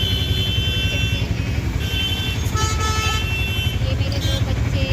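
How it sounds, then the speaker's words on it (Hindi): Dense, steady road-traffic din heard from inside an auto rickshaw in a crowded street, with horns tooting intermittently over a constant engine rumble; people can be heard talking underneath. "बहुत ट्रैफिक, देखिए कितना भीड़ है यहाँ पर"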